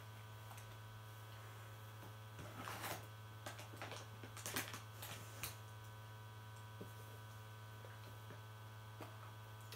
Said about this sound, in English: Sorry about that whirring in the background, it's the Xbox.